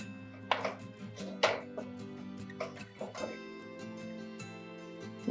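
Raw coconut and onion curry gets stirred in a pan, with a handful of sharp scraping and tapping knocks at uneven intervals over a steady low hum, close and fairly quiet.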